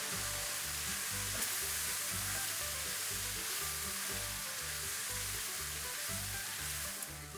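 Chipotle chocolate venison chili sizzles steadily in a pot, a loud, continuous frying hiss with a faint rhythmic stirring pulse throughout and no talking.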